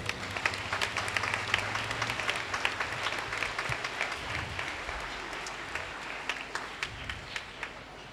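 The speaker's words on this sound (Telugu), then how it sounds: "మన గురువులందరికీ ఒకసారి గట్టిగా చప్పట్లు కొడదాం" A congregation at a Maundy Thursday Eucharist at a shrine applauds its priests, a steady dense wash of many hands clapping that swells and thins across the stretch, with no talking over it.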